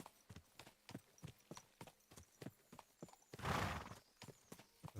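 Horse hooves clip-clopping at a steady walking rhythm while riding in a video game, a horse's neigh rising midway, with no talking.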